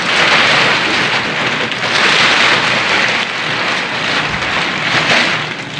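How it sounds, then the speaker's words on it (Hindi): A rolling metal shop shutter rattles down steadily and loudly for several seconds, a continuous noisy clatter with no talking over it. "ये हमारा शापर क्लोज हो रहा है।"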